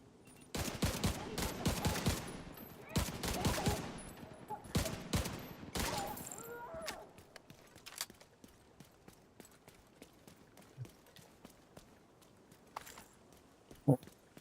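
Rifle fire in The Division 2 cracks out in rapid bursts, loud at first and then thinning to scattered single shots against a quieter background.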